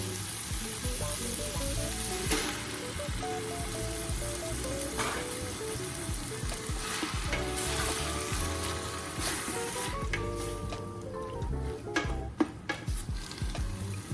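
Chili ingredients, including fire roasted tomatoes, sizzle in a pot while being stirred, giving a steady close frying hiss broken by scraping and clinking stir strokes throughout, with no talking.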